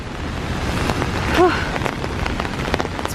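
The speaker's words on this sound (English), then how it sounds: "It's pouring." Heavy rain pouring at a waterfall in Olympic National Park, a steady dense hiss of water with a brief faint chirp-like sound in the middle.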